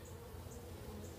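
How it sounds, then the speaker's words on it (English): Honeybees nested inside a BBQ grill give a faint, steady low drone for a brief moment, a soft continuous hum with no talking. "So here's our bees."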